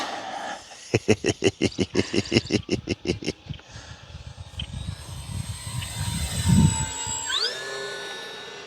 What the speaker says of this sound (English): You hear that, ESC? Mm-hmm. Not too happy with me right now.